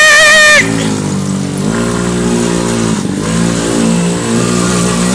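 A mini quad's small engine revs hard and holds a loud, buzzing drone during power drifts in a backyard, close and steady with slight pitch swells, after a brief voice at the start.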